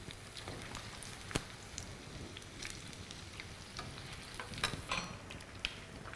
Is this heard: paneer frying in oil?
yes